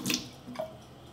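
Water poured into a sweet and sour pickling brine of sugar, distilled white vinegar and kosher salt, a short splashing burst that trails off into faint trickling, heard up close with no talking.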